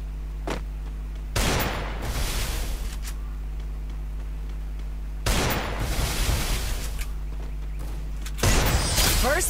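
Gunshots in the battle-royale game Free Fire: three separate loud bursts of fire spaced a few seconds apart over a steady low background hum, with no talking.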